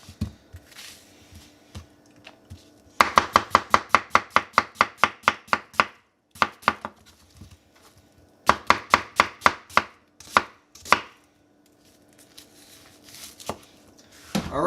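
A Mosfiata chef knife chops vegetables on a cutting board in quick, even bursts of crisp strikes, with two rapid runs and a few scattered single cuts between pauses, close and clear.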